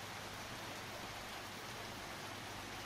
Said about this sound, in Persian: منطقه آمازون بارون بود و بارون بود که از آسمون فرو می‌آمد